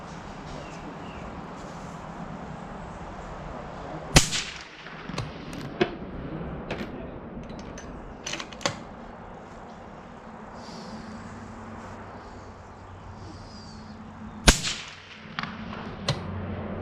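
Sharp cracks from a 6.5 Grendel AR-platform rifle at an outdoor range: two loud shots several seconds apart, each followed by softer clicks and handling noises, against a quiet background.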